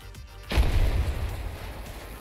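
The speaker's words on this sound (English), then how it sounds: "and then we get a pretty little explosion." Planted C4 detonates in Battlefield 2042 with a sudden deep boom that rumbles and slowly fades into low roaring debris, loud and close.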